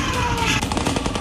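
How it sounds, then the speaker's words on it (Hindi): Rapid gunfire from both sides during a terrorist attack on a Federal Constabulary line in Khyber Pakhtunkhwa, heard as dense, continuous bursts of shots in a loud, cluttered mix. "दोनों तरफ से ताबड़तोड़ गोलियां चलने लगी"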